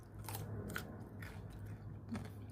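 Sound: crunchy bite of a pickled cucumber

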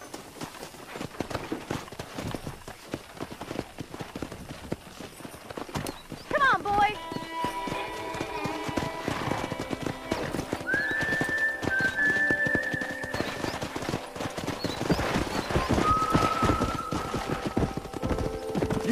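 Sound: horses trotting and neighing in the video game Red Dead Redemption

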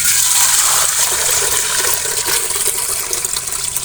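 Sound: water being poured into a pot for heating

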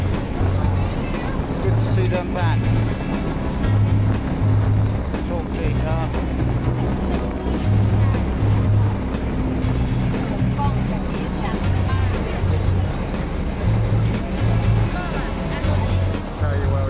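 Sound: boat river cruise with engine and waves in Bangkok

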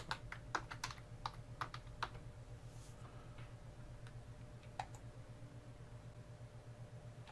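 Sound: typing a Wi-Fi password on a computer keyboard

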